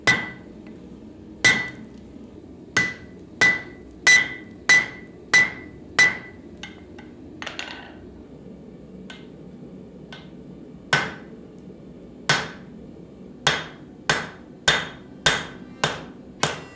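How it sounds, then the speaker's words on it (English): A hammer forges a steel bar, drawing out the lugs of an axe on an anvil: sharp ringing metallic blows struck at a steady rhythm in two bursts, separated by a quiet pause with a few lighter taps. "I use the pin section of my hammer to start drawing out the lugs of the axe"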